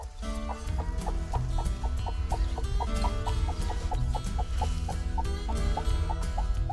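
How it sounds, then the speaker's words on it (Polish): Rhythmic, repeated clucking from a broody hen with her chicks, nearby and fairly steady, over a low background rumble; no one speaks. "Tereska, jak tam twoje kurczaczki?"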